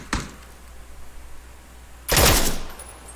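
Video-game gunfire: a sharp single shot, a stretch of faint background noise, then a louder burst of blasts that fades out, with no talking.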